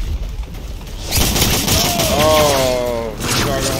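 Shotgun blasts from Modern Warfare 2 (2009) gameplay, a dense burst of loud close gunfire layered over a mix of game audio, with a voice talking partway through.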